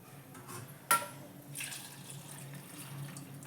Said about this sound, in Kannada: ಅದಕ್ಕೆ ನೀರು ಹಾಕ್ಕೊಂಡು ನುಗ್ಗಿಕಾಯಿ ಕುದಿಯಕ್ಕೆ ಇಡ್ತೀನಿ